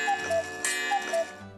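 A cuckoo clock from a German village shop sounds its two-note cuckoo call twice in quick succession, fairly close and clear over a faint background hum.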